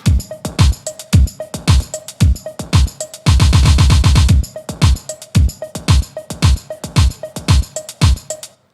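A punchy finger-drummed drum groove plays alone: deep kick and snare hits in a steady loop, with a rapid hi-hat roll burst in the middle.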